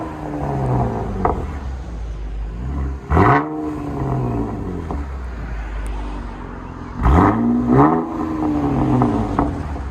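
Chevy Camaro 3.6L V6 with an aftermarket exhaust revving loudly, two sharp throttle blips that rise and fall over a steady idle rumble, close by and with no talk.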